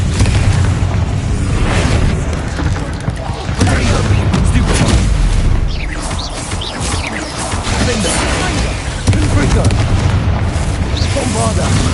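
Confringo blasting spell detonating in Hogwarts Legacy, a loud, dense spell-fire barrage of booms and crashes with in-game voices speaking over the blasts.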